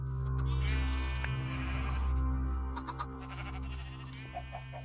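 Minecraft sheep bleat softly in the game, a wavering nasal call stretched over a couple of seconds, then a few short clicks and quick chirpy blips follow against a steady low background.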